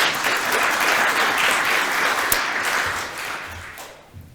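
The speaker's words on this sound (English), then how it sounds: "a big applause" Audience applause at a maritime industry seminar, a dense steady wash of clapping from a crowd that holds strong, then thins and fades toward the end.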